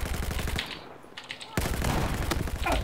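Sustained machine-gun fire in a shooting video game, dense and loud, briefly dropping off mid-clip before resuming at full intensity, with no talking.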